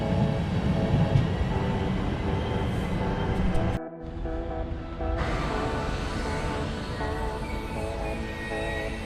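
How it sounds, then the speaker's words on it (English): An ÖBB Nightjet passenger train departs a station toward Milano Centrale, rumbling and clattering steadily with a faint rail squeal, the noise dipping briefly before the rolling continues. "let's say goodbye to our train right now, as it's heading into Milano Centrale now"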